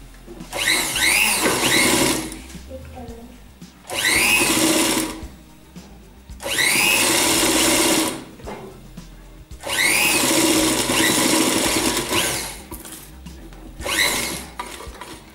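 Electric sewing machine stitching a mat border design, running in five loud steady bursts of several seconds each with short quiet pauses between, close and clear with no talk over it.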